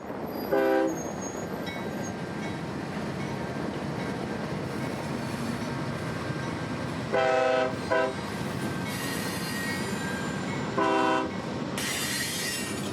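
Freight train led by two locomotives passing on a Central Florida line, with a steady rumble of wheels and cars and three separate loud horn blasts spread across the pass.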